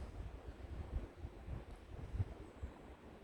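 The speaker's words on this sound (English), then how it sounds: "It's really, really breezy. We've got a lot of strong wind" Strong outdoor wind buffets the microphone with low, uneven rumbling gusts that rise and fall throughout, with no other clear sounds.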